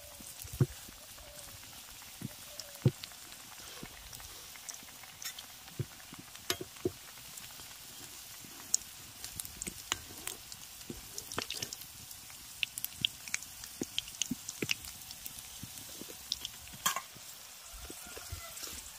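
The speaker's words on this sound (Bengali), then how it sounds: "যেইভাবে আমরা বেগুনকে বেসনের ব্যাটারে ডুবিয়ে ভাজি সেইভাবেই ভেজে নিচ্ছি এগুলো।" Cabbage pakoras and gram-flour-battered fritters sizzle and crackle steadily in hot oil for a long stretch, with scattered sharp pops over a soft, constant frying hiss.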